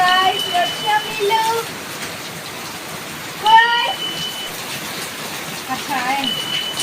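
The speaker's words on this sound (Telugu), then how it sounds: "అందుకని వర్షం పడుతుంది చూడండి" Steady rainfall makes an even, moderate hiss throughout while a voice talks intermittently over it.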